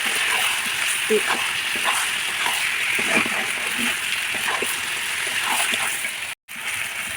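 Meat sautéing in a pan with dried chilli powder gives a steady, close sizzle with wet splattering and occasional stirring scrapes throughout, briefly cut by a short dropout near the end.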